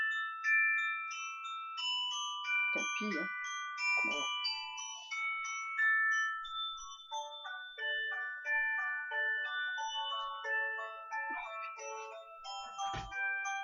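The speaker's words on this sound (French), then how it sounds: "Et voilà, c'est le téléphone maintenant." A melodic telephone ringtone plays continuously at a crafting desk where stamped cards are being made, a bright repeating tune with a short spoken remark over it partway through.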